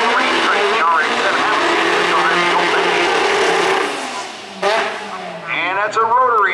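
A Mazda RX-7 rotary engine roars loudly at a drag race at Maryland International Raceway, with sustained revving, a dip, then renewed climbing revs, while a commentator talks over it.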